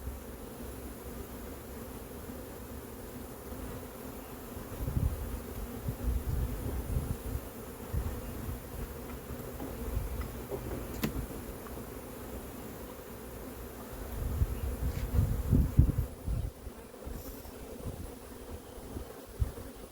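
Honey bees buzz steadily in a dense, close drone throughout a hive inspection and transfer, swelling louder around the middle and again near the end, with no talk over it.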